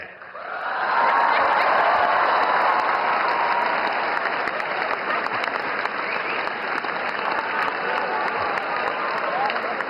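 A large audience claps at a speech during an Art of Living event in Bengaluru. The dense, steady applause swells within the first second and holds loud and continuous to the end.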